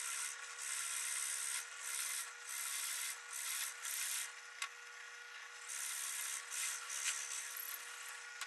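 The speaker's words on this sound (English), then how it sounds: "I've taken a moment to sand everything down." A wooden knife block being sanded by hand: rhythmic rubbing strokes of abrasive on wood, close and fairly quiet, with brief pauses between passes.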